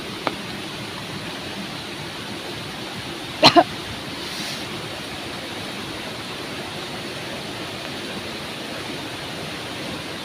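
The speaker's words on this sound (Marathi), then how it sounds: "दिसला धबधबा तो बघा समोर" A Konkan village waterfall roars as a constant, even rush of water with no voices, broken only by a brief double knock partway through.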